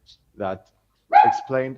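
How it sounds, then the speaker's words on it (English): A pet dog barks in short, loud bursts close to the microphone, two or three yips and woofs breaking over someone speaking English. "sorry for my dog"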